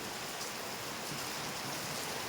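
Steady rain falling outdoors, a dense, even hiss of drops with no distinct individual impacts, faint and continuous throughout without any talk.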